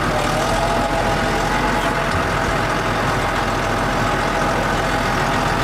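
A tractor engine labours along in low gear while driving in New Zealand, a loud, steady, close rumble that runs continuously without a break.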